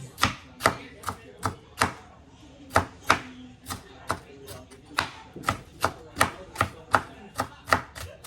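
Steady knife chops striking a cutting board, about two per second, sharp and close, with a faint murmur of background sound between strikes.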